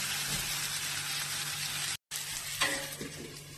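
Fish sizzles steadily in hot oil in a home kitchen, a loud continuous crackle with a brief break and a sharper hiss as the fish is added.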